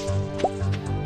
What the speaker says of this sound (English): you gotta throw a little water in the dish